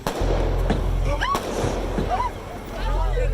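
Armed police officers fire gunshots during a terror incident at London Bridge: a few sharp bangs burst out over loud crowd noise, with people talking and shouting throughout.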